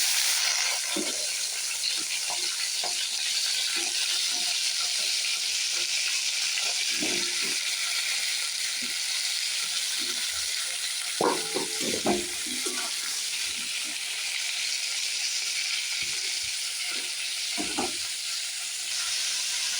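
Ridge gourd and potato pieces fry in hot oil for a fish curry, giving a steady, close sizzle throughout with occasional scraping stirs and small clinks, and no talk.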